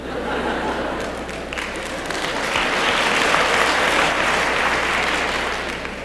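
Theater audience at a comedy performance breaking into applause, clapping building to a loud, dense peak with some chuckling mixed in, then easing slightly.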